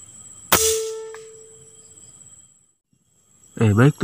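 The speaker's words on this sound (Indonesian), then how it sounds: "Sekarang kita coba tembakan." A scoped sniper air rifle fires one sharp, loud crack at an outdoor range with a 20x zoomed scope set for 80 metres, its ringing tail fading into quiet before a person starts talking.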